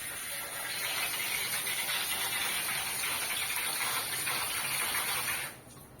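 Water pours steadily onto a tulsi plant in a constant close gush that lasts about five seconds and then cuts off.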